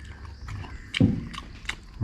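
Crunchy bites and chewing of crispy grilled hampala barb fish skin and flesh, a few close, irregular crunches with background noise, the loudest burst near the middle and another at the end.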